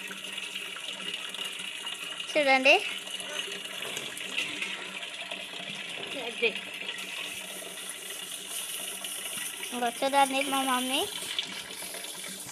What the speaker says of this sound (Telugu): ఈరోజు అయితే మేమైతే ఇప్పుడు నీళ్ళు పడుతున్నాం అన్నమాట